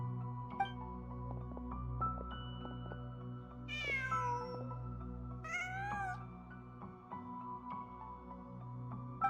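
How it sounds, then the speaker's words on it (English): A cat in the video game Genshin Impact lets out two clear, rising meows a couple of seconds apart over a steady low ambient hum and soft background music. "Just a cat."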